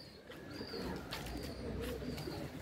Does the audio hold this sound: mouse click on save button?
no